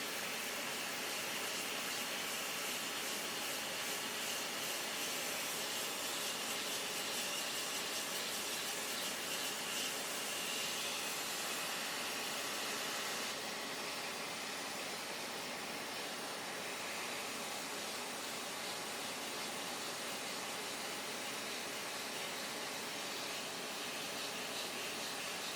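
A hot air rework station set to 450°C and 70% airflow blows a steady, even rushing hiss, close and continuous, while repairing an Xbox Series X board.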